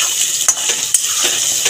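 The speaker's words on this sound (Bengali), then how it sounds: "আলুটাও লাল লাল করে ভাজা হয়ে গেছে।" Potatoes fry in hot oil with a loud, close, continuous hiss, broken by a few soft scrapes of a spatula.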